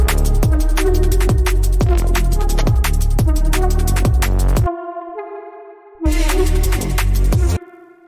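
Serum synth lead processed with delay, compressor, EQ and reverb, playing a bright, stuttering rhythmic riff of chopped notes with a sustained tail in a brief gap before the pattern returns, loud and alone.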